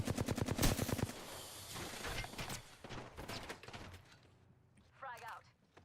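Rapid bursts of video game gunfire crackle in quick succession during a tactical shooter match, dense at first then thinning out, with players' voices talking over the shots.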